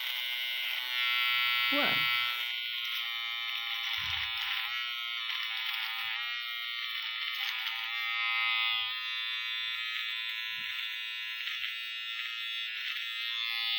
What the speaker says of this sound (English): It is a shaver for beards.